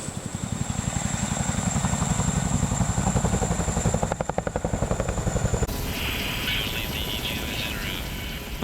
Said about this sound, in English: Because the Chinook is an extremely large aircraft, it requires a crew of 4.